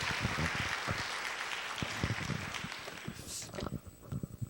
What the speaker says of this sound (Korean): 박수로 한번 환영하시죠